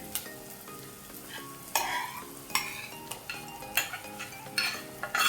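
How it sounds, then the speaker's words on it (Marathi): A spoon stirring a dal makhani mixture of cooked lentils in a pan, soft scraping and sizzling with several sharper clinks of the utensil against the pan at irregular intervals, close and fairly quiet. "हलक्या हाताने मस्त सगळं ते एकजीव करूया मिश्रण"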